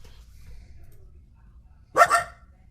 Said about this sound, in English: it'll make that dog bark sound